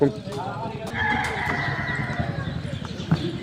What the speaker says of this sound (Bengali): এটা মোরগ দেশি মোরগ এটা